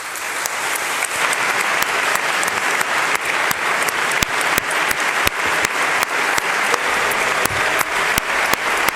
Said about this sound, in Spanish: ahí están aplaudiendo a dos nuevos miembros de la mesa